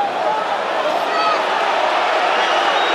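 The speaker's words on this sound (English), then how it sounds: "Crowd didn't see it, so they're roaring." A large stadium crowd at a Rugby World Cup pool match between Australia and Fiji roars in a steady, loud, continuous wall of noise.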